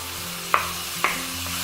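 Frozen sirloin burger patties fry in a pan with a steady low sizzle, and two distinct sharp taps land about half a second apart.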